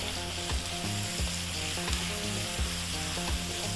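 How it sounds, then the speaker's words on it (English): Tomato paste sizzles loudly and continuously in a pan over medium heat, with regular scraping strokes of a utensil as it is kept moving; no voices. "We actually really want to cook that tomato paste out."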